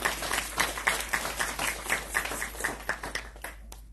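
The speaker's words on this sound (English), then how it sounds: "Let's give the sponsors a round of applause." Congregation at a Ramayan satsang in Margate, Florida, gives the sponsors loose, uneven clapping with distinct pulses that thins out and stops near the end of four seconds.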